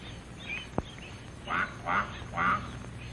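A mother duck calls her ducklings in a grassy meadow, three short nasal quacks in quick succession after a single sharp tap, moderately close over a quiet background.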